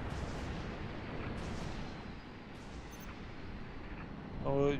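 A deep, rumbling explosion in Halo: Reach booms and echoes with dull, repeated blasts, ending in a brief bright electronic tone.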